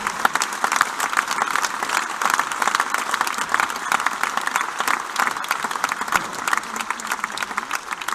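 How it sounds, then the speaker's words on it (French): Sustained applause from an audience at a rugby club's squad presentation for the 2016-2017 season, dense steady clapping from a sizeable crowd in a hall, heard alone for several seconds. "La parole à Jacques Gunel, on peut l'applaudir."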